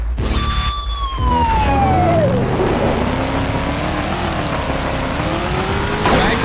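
Loud, sustained roar of a monster truck engine in the Monster Jam: Urban Assault video game, with a siren-like wail sweeping down and squealing, grinding crash noise as cars are crushed, no talking.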